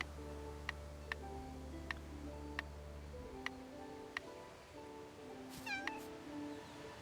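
Cartoonish cat meows from the Isle of Cats digital board game, a short rising mew late in the clip over steady game music with soft repeating ticks, no talk.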